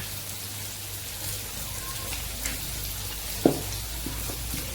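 Fish shallow-frying in a little oil in a pan, a soft, even crackling hiss at close range with one sharper pop partway through, and no talking.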